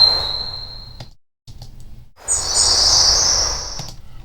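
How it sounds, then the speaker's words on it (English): Daytime forest birds sing loudly for a game ambience asset: bright, close chirps and a sustained high whistle, a brief silent gap, then a louder trilling call over a soft, airy background, with no talk. "there we've got 5 forest day birds. They're nice and loud."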